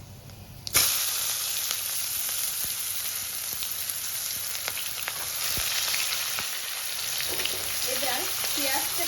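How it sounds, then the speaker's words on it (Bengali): Chopped onions frying in hot oil with spices, a loud, continuous sizzle that bursts up as they hit the pan and carries on with crackling pops. "এবার পেঁয়াজটাকে আমি লাল করে একটু ভেজে নেব।"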